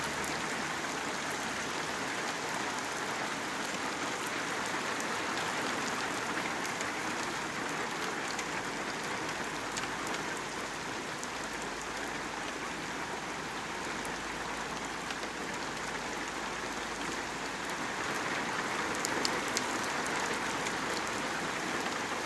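Heavy rain pours steadily in Güzelyurt, Cyprus, a dense, continuous hiss of drops drumming on surfaces that stays loud and even throughout, with no voices present.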